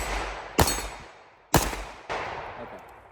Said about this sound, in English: We'll just shoot 3 rounds, making sure everything works.